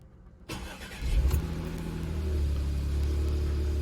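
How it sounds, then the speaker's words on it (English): Audi S4 3.0T with DSG gearbox: after a moment of quiet the starter cranks briefly, then the engine catches and settles into a steady, rumbling idle close by. "Start the engine."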